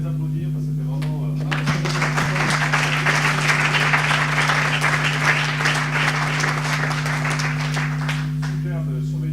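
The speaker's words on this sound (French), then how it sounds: "Je pense qu'on peut encore les applaudir" An audience applauds steadily after a French talk event, with the clapping holding at an even level across the whole stretch over a constant low electrical hum.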